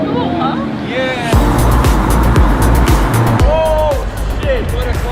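A Lamborghini Terzo Millennio concept car roars loudly and close for about two seconds before its engine note fades, with excited voices chattering over it throughout.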